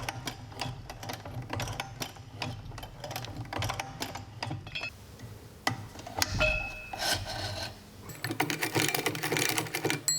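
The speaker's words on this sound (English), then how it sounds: "I rotate the piece 180 degrees and then stitch back 3 or 4 stitches." A Weaver CUB sewing machine back stitches through leather in short bursts of rubbing, clicking stitches, with pauses between runs and a denser burst toward the end.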